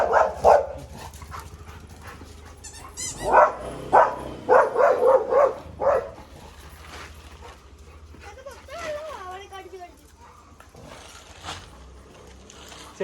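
A dog barks in several sharp bursts at arriving people, close by, while people talk around it.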